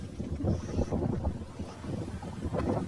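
Wind gusting across the microphone outdoors, a low rumbling buffet that rises and falls for a few seconds with no voices.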